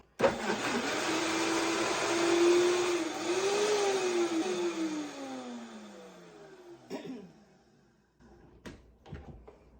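A kitchen blender runs on high for several seconds, blending avocado and chocolate into a mousse, its motor whine dipping and rising as the mixture churns, then cuts off, followed by a few knocks and clatters.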